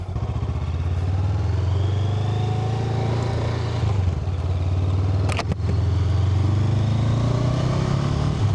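Honda Rebel 500 motorcycle being ridden, its engine droning steadily and close with a low rumble, under road and wind noise, with a brief clatter midway.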